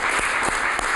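A crowd's applause fills the space, dense and steady with a few sharper claps standing out, continuous for the whole second.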